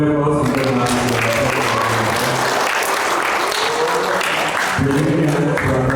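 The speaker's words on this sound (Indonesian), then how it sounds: "kita beri aplaus untuk" Sustained audience applause at a talk on youth and village potential, a broad wash of clapping that swells between stretches of someone speaking at the start and end.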